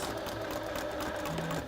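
A sewing machine stitches steadily around a marked line, a continuous close whirring hum with no break or pause.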